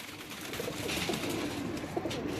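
Pigeons cooing in a rooftop cage, soft steady coos blending into a dense, continuous background hum.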